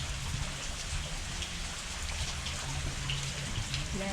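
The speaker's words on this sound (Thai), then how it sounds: "ฝนตกชั่วโมงกว่า" Heavy rain pours steadily during a downpour that floods streets in Ratchaburi, Thailand, a dense, even hiss of drops on surfaces that continues unbroken without talk.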